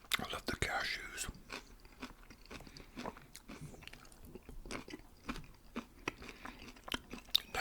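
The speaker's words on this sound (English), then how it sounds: "I love the cashews." Whispered ASMR salad eating with crunchy cashews and leafy greens, close and intimate: repeated crisp bites and chewing crunches in irregular bursts, with soft whispering between them.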